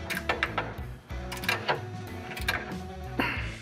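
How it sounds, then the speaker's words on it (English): Two 13 mm bolts are being tightened on a bed step support bracket while a retractable running board is fitted to a truck, giving a loud run of close ratcheting clicks and metallic taps with brief pauses between bursts. "Now we're going to fully tighten these 2 13 millimeter bolts"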